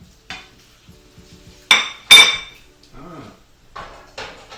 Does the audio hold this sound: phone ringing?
no